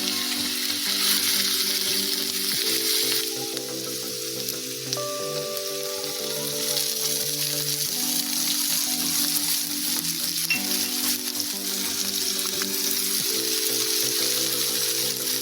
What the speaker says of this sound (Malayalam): ഓയിൽ ചൂടായി വരുമ്പോൾ അതിലേക്ക് 2 അല്ലി വെളുത്തുള്ളി, 1/2 ഇഞ്ചി ഇഞ്ചി ആഡ് ചെയ്ത് കൊടുക്കാം